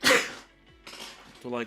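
A single sharp sneeze bursts out loudly at the start, followed by a pause and then casual speech.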